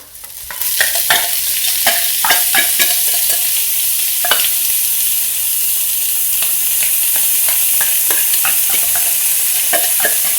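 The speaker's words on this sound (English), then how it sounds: "When your onion is soft, then we can add our tins of tuna." Onion and tinned tuna frying and being stirred in a pan, a steady loud sizzle throughout with repeated clicks and scrapes of the utensil against the pan, no voices.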